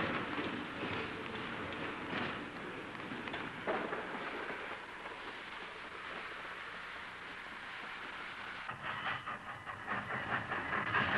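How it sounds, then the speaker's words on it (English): A steam locomotive pulling a northbound freight train rumbles steadily at a distance with a low, continuous roar and some hissing, no voices. "a steam train pulls a freight train heading north"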